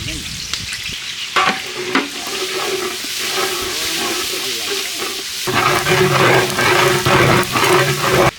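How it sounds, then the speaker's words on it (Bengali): Rice fries with oil and onion in a large pan, giving a loud, steady close-up sizzle with bursts of scraping and stirring that grow more intense partway through. "ওই ভাতটা ফ্রাই করবো।"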